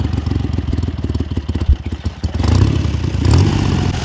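A 1971 Triumph Trident 750 T150V motorcycle engine idles up close, with a loud, steady, rapid pulsing putter and mechanical clatter, swelling slightly in the last couple of seconds.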